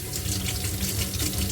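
Cold tap water gushes steadily into a sink to rinse rice, a continuous broadband rush at moderate level with no talking.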